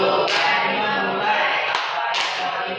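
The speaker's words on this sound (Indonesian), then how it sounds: "Kemudian nanti tepuk tangan, 2 dada dan 1 tepuk di tangan" A rhythm game pattern of chest pats and hand claps, with a few sharp slaps standing out over a dense steady wash of sound, close and fairly loud.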